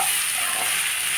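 Onion and chili paste mixture sizzling steadily in a pan over a medium flame, a constant bright hiss with faint stirring scrapes, no voices.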